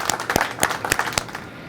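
A small group claps for a crane operator on a construction site where slabs are being poured, a handful of sharp, uneven claps spread over a moment.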